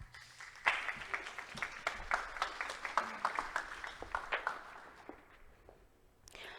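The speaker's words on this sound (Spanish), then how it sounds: "Un aplauso para ella, por favor." An audience at an international circular economy congress applauds a speaker; crowd clapping starts abruptly, holds at moderate loudness with uneven peaks, then tapers off near the end.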